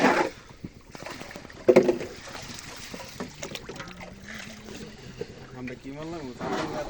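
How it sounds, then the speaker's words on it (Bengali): A small fishing boat moves along the Meghna river at Raipura, with a faint, low hum and a soft watery wash. Someone speaks throughout, close by. "নৌকার দ্বারা যাইতাছি"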